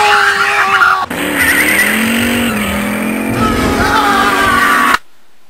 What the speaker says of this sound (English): Hey, you need to look, there's a car coming!